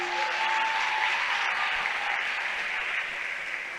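An audience claps together at a talk about Islamic boarding schools, a broad steady roar of applause that holds for several seconds and fades gently, with a faint tonal hum early on.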